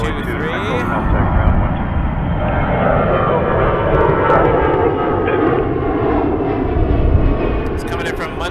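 Porter Embraer 195 jet airplane landing on a runway at Toronto Pearson Airport, a loud, continuous jet roar with a slowly shifting whine that holds throughout, while a voice talks over it.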